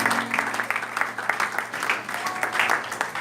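Congregation applauding during a church service, a steady wash of hand claps with rhythmic surges, fairly close and continuous, with some voices mixed in.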